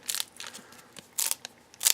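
A 1992 Fleer Ultra card pack taken from freezer storage is handled up close, giving several sharp, dry crackling crunches in short irregular bursts against near silence.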